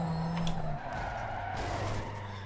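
A car in Need for Speed Underground 2 drives with a steady engine drone and a tire skid, moderately loud with no voices.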